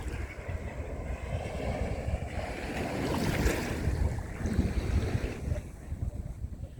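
Blustery wind rushes across Middle South Bay Beach at Repulse Bay, Hong Kong, at sunset on a cool, high-tide evening, mixing with rolling surf in a steady, loud roar that swells midway and carries on without speech.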